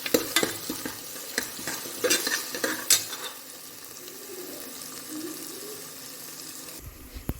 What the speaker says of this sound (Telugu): సో అల్లం వెల్లుల్లి పేస్ట్ మనకి పచ్చివాసన పోయేంత వరకు వేయించుకోవాలి